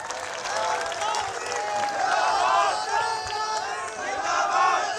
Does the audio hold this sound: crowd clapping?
yes